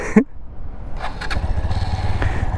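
A 2018 Brixton BX 125 motorcycle is knocked off its center stand with a clunk, then its small single-cylinder engine idles quietly and steadily nearby, a low even putter with light mechanical clicks.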